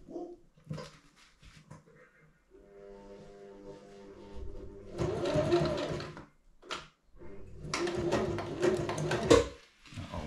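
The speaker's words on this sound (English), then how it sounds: "Turn the sewing machine on." A home sewing machine stitches a custom bicycle frame bag, running in two steady bursts with a steady whirring hum between pauses, fairly quiet and close.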